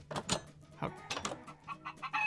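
Minecraft chickens clucking in short repeated bursts, fairly close, with a steady low hum underneath and no talking.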